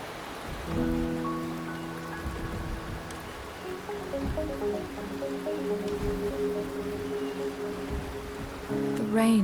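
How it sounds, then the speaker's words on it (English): Steady rain falls in the video game Wuthering Waves, a continuous soft patter under sustained musical tones that swell and change, fairly even in level throughout. "The rain is subsiding, and the sky will soon clear."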